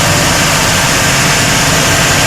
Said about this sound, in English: See, he's revving the engine up.